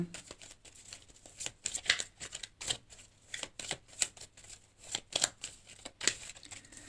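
A deck of tarot cards is shuffled up close, a steady run of crisp riffling flicks and soft slaps in an even rhythm, with no talk over it.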